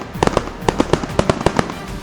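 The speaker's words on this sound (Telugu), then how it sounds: "జంతువులను భయపెట్టేది ఒకటి టపాసులు పేల్చడం" Firecrackers set off in farm fields to scare wild animals away from crops, a rapid irregular string of sharp cracking bangs, loud and close, with no talking.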